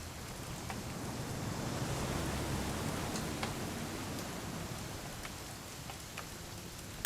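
Steady rain falls in What Remains of Edith Finch, a soft, even wash of drops heard alone and without pause.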